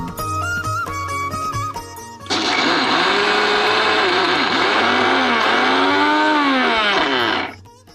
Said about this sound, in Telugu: ఇప్పుడు ఈ అల్లం ముక్కలు కూడా దీంతో పాటు మిక్సీ చేసుకుంటాం